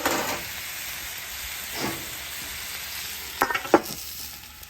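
Sausage ravioli and butternut squash cook on a griddle with a constant hissing sizzle, a soft spatula scrape near the middle and a quick cluster of sharp scraping taps toward the end.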